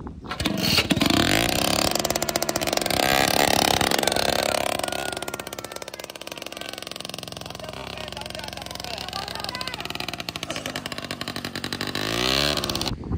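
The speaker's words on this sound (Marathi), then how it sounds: "बरं झालं बाई ट्रॅक्टर निघाला एकदाशी" A tractor loaded with onions pulls out of a field where it was stuck, its engine revving loudly and steadily throughout, with people talking over it.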